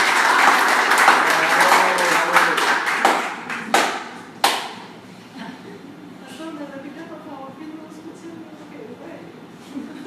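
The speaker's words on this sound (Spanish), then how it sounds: "Un verdadero aplauso para don Eddie" An audience gives a round of applause for a man called Eddie: dense clapping up front that thins into a few scattered claps and dies away, with voices murmuring afterward.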